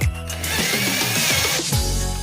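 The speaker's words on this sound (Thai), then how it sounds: "ที่เหลือก็คือใช้น็อต น็อต แบบเจาะเหล็กนะครับ ยิงเข้าไป" A power drill drives self-drilling metal screws into wood, its motor whining up sharply, grinding under load for about a second, then dropping and spinning up again, loud and close.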